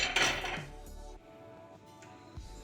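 Cooked beef trotters (paya) dished out into a serving dish: a few soft clinks of a spoon against a pot and plate at the start, then quieter scraping and handling, close by.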